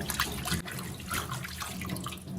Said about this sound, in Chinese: 我们先初步的给它清洗掉泥沙